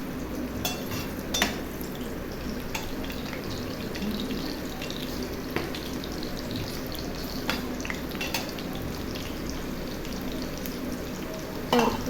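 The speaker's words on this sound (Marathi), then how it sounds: "कांदे बारीक करून घ्यायचे आहेत. आणि ते चांगल्या रीतीने परतायचे आहेत." Finely chopped onions fry in a pan for crispy onion kachori, with a soft, steady sizzle and crackle throughout and occasional light clicks of stirring, fairly quiet and without talk.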